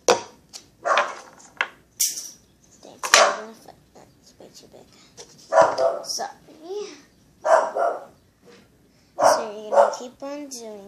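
A pet dog barks indoors while a duct tape piggy bank is being made, a handful of short, sharp barks scattered between frequent talking.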